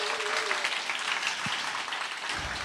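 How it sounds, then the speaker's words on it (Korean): Audience applause at a Korean church youth prayer service, a steady wash of clapping from a crowd sustained for the full stretch at moderate level, with no clear speech over it. "동의하신 분은 박수 한번"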